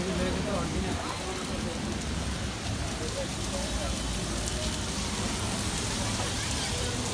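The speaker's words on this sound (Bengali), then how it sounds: "বৃষ্টি পড়তেছে" Rain falling outdoors along a street by a cemetery, heard from under a canopy-like shelter as a dense, steady, close patter that keeps going unbroken throughout.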